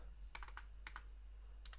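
Typing on a computer keyboard: a few quick clusters of soft key clicks in short bursts, faint and close, over a steady low hum.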